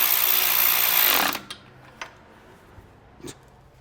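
A motorcycle's main starter lug is tightened with a power tool, giving a loud, steady, close whirring buzz for over a second. Afterwards come a few light metallic clinks from tools set down.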